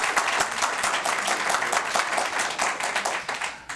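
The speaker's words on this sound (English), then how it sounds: "Well, I always like when people clap for me," A crowd of attendees claps at a county board of supervisors meeting, a dense continuous round of applause at moderate loudness with no talk over it.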